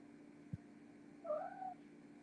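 A cat gives a short, faint meow-like call after a single dull knock, heard alone against a quiet background hum.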